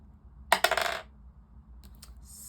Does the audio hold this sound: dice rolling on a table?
yes